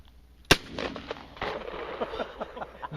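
A 12 gauge shotgun fires once, a sharp loud crack that echoes and tails away outdoors over a few seconds of fainter rustling.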